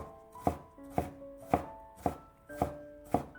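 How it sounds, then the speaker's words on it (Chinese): A knife cuts ginger into small dice on a cutting board, making six sharp, evenly spaced chops close by in a quiet room. "再切成姜丝， 最后切成小丁。"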